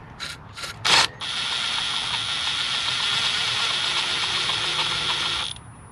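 A ratchet spins a part counterclockwise on a 2012-2018 Ford Focus transmission: three quick clicks, then a steady fast buzzing ratchet whir for several seconds, close and clear with no talk.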